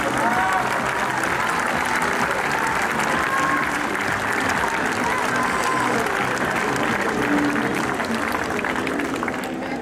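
A crowd applauds continuously at the closing prize ceremony of the ATP Challenger tennis tournament in San Benedetto, a loud, even wash of clapping with a voice faintly audible beneath it.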